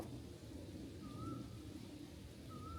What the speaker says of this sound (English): as you can hear, when I shut my mouth up, there was a bird. Okay. It's called a koel